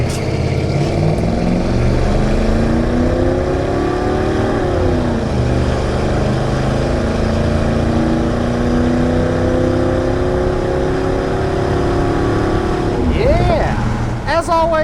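A lowered 1987 GMC Sierra Classic 1500 pickup with a throttle-body-injected 350 V8 and 700R4 transmission drones loudly while driving, engine pitch rising and shifting through gears, with a voice speaking over it.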